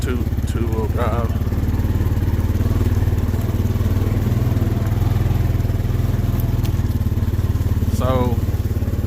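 Honda Foreman EPS ATV engine running steady and close in low gear up a washed-out road, a continuous chugging drone, with brief voice sounds over it.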